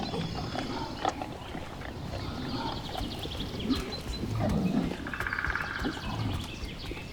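A brown bear in a Slovak Carpathian forest gives low growling, roaring calls over dense woodland ambience. Birds chirp faintly in the background throughout.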